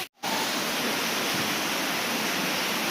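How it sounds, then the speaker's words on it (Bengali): A waterfall pouring down a hillside cave near Shillong, a dense, loud, unbroken roar of rushing water after a brief silent start. "জল পড়ছে"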